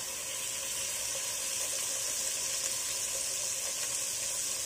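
A spoonful of ginger-garlic paste fries among browned onions in a pot for beef bhuna khichuri, giving a loud, dense, unbroken sizzle up close with no voices.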